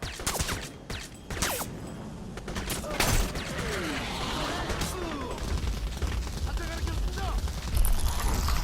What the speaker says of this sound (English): Yeah, so the AA guns, they just use rapid fire cannons